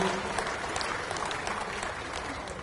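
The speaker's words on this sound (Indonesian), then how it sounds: "Kita berikan aplaus kepada Pak Agus." An audience applauds at a Golkar party event in Indonesia. The clapping is a short, dense, even wash that holds steady throughout.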